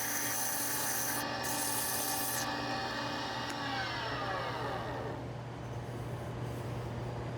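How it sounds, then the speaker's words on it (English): Sandpaper pressed lightly against an open-grained wooden pen blank spinning on a wood lathe, producing a steady hissing rub over the motor's constant hum, with a brief higher whine early on. "I just need to sand it"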